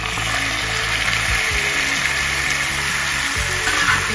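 Around 700 g of marinated local chicken fries in a pan with a continuous loud hissing sizzle that holds steady throughout, close by and with no voices.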